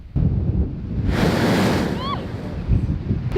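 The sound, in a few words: blowholes blasting water and air through rock tunnels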